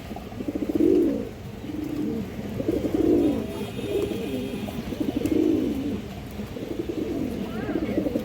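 An old-breed red Chulli female pigeon and others coo in repeated low, throaty rolls, each swelling and fading in a steady rhythm against a constant background hum.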